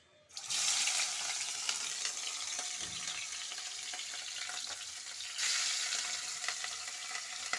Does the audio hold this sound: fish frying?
yes